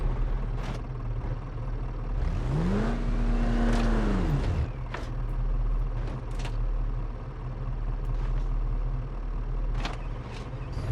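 A Ford Transit without its cargo box drives in the BeamNG.drive video game, its engine tone climbing and falling once in a smooth rev before settling into a steady low hum.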